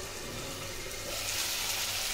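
Potatoes sauté in a hot pan for a fish curry, giving a steady, faint sizzling hiss that swells a little partway through, with no voices.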